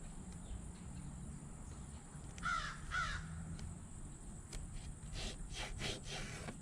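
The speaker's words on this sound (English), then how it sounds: "That bird would really be nice if it shut up." A crow cawing outdoors, a few harsh calls in the middle of the clip over a faint background of insects and distant hum, no talking.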